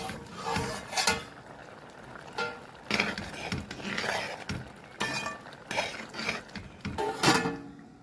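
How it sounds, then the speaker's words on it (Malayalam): Someone stirs a pot of ash gourd pachadi with a utensil, making irregular metallic clinks and scrapes up close. The strikes come in short clusters with brief pauses between them. "തുറന്നൊന്ന് ഇളക്കി കൊടുക്കാം."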